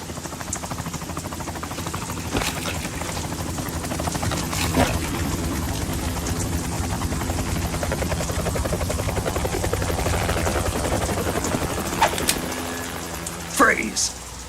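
Helicopter in the Metal Gear Solid game: a steady loud rotor drone and engine whine running throughout, with characters talking over it.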